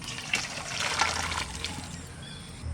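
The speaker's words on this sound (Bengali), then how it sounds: "এবার ঢেলে নিচ্ছি" Liquid pours steadily into a cooking pot for a few seconds, a soft continuous splashing trickle heard close up with no talking.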